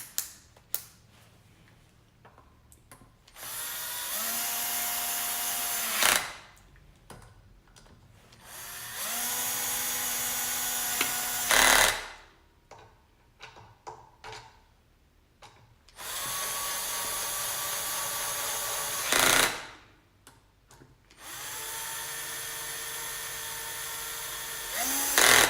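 A power drill drives screws during a repair of a Makita 9401 belt sander, whining in four separate bursts of a few seconds each that rev up and cut off. Small clicks and handling noises fill the quiet gaps.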